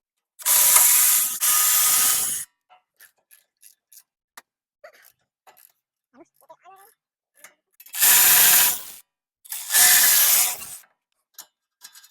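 A ratchet backs off brake caliper bolts on a 2015-2023 Toyota Tacoma, with two bursts of rapid clicking, then faint small clinks of parts, then two more loud ratcheting bursts close up.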